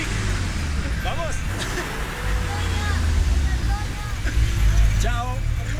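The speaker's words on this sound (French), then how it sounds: "The truck can't get up the hill?" Heavy traffic rumbles steadily along a busy road in Bolivia or Peru as a truck labors to climb a hill, its low engine drone continuous beneath voices talking over it.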